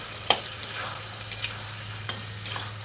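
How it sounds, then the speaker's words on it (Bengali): Pumpkin and potatoes stirred in a pan, a soft continuous sizzle broken by sharp spatula clacks and scrapes at irregular intervals, close and fairly quiet, with no one speaking. "তারপর ভালোভাবে নাড়াচাড়া করে নিচ্ছি।"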